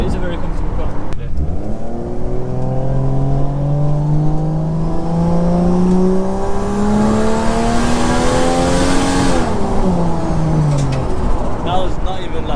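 A 1JZ-engined Toyota Soarer pulls hard from inside the car, its engine note rising smoothly through the revs for about eight seconds before easing off, then climbing again, loud and close.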